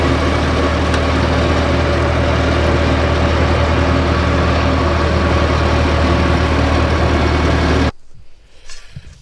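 A tractor engine idles steadily and loudly at close range on a farm, a constant low rumble for most of the clip before cutting off sharply near the end.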